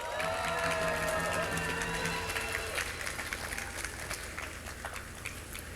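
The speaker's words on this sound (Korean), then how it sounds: "다시 한번 큰 박수 부탁드립니다" Crowd applause and cheering ring out at an outdoor rally, a dense, steady wash of clapping heard from a distance, with a faint tonal sound fading out early.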